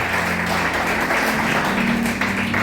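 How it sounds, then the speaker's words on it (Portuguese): A church congregation applauds in a continuous, even wash of clapping over a low sustained hum, with no clear break over the short stretch. "A igreja pode aplaudir e glorificar Jesus."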